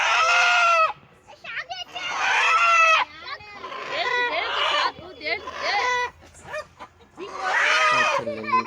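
Country chickens squawk and flap loudly in repeated bursts while being caught for a Sankranti festival in a village, with people talking nearby.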